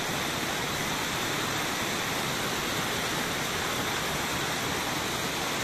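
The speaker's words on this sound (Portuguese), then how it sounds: "Olha a força da água." Stream water rushing after the first thunderstorm of the year, a loud, steady, broadband roar of flowing water that continues unbroken throughout.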